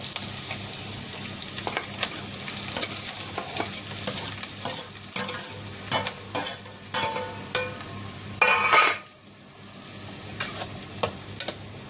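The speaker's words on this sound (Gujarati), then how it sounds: "તેલ ગરમ થઈ ગયું, હવે આ ડુંગળી સુધારીને નાખી દેવી" Chopped onion hits hot oil already holding garlic, giving a loud, steady sizzle with repeated spatula scrapes and stirring clatter. The noise drops briefly near the end, then resumes. No one speaks.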